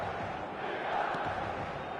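A stadium crowd at a Milan football match chants and roars as a steady, distant wash of voices with no single voice standing out.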